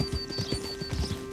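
Horse hooves clip-clopping at a steady riding gait in the Red Dead Redemption 2 western game, close and rhythmic, with a faint whinny beneath a low steady hum.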